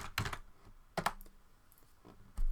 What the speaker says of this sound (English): So I'm going to type enable.